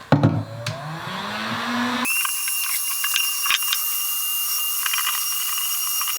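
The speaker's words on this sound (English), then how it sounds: "I only let that sit for like a minute before I put the heat gun on it" A heat gun blowing hot air to dry a rinsed-out motorcycle fuel tank, switching on after a few seconds of clattering handling noise into a loud, steady, high-pitched whirring hiss up close.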